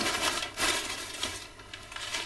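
Packing paper being crumpled and rustled while a box is unpacked, giving a few soft, close crinkling bursts at low volume.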